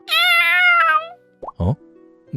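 A baby kitten, found in a box by a river, gives one clear, high, drawn-out meow, followed by a couple of short soft thumps in an otherwise quiet setting.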